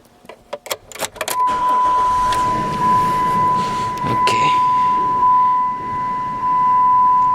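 A 2006 Dodge Dakota with a random misfire starts after a burst of jangling keys and clicks, then settles into a steady, close idle with a constant whine over it.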